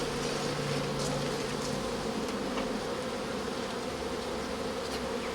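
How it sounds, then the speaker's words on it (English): A dense, steady hum of many honey bees buzzing close by while nucleus colonies are merged, continuous and loud throughout with no talking. "there's some straggler bees on there"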